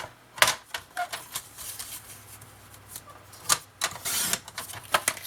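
Cutting a paper flap on a small scrapbooking folio gives a close, irregular series of crisp snips and paper rustles with several louder clicks, and no talking.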